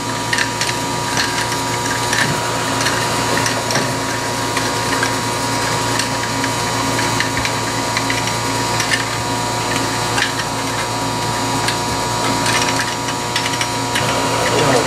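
Threaded ozone injector fitting being screwed tight onto an ozone line, giving steady close ratcheting, clicking mechanical sounds with faint grinding throughout, no talk.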